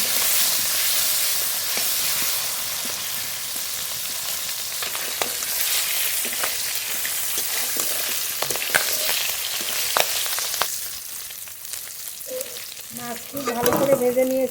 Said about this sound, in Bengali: মাছ খুব ভালো করে ভেজে নেবো